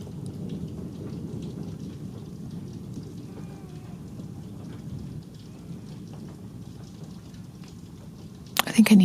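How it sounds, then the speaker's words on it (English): An intense thunderstorm during a tornado warning, with a low continuous rumble of rolling thunder and steady heavy rain, heard from inside a vehicle, with a sharp louder burst at the end. "That is one intense storm."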